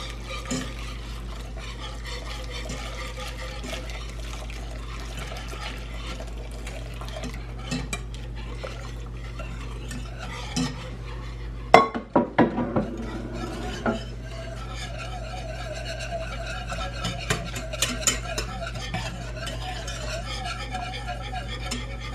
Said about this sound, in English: We just want to whisk this constantly until this thickens.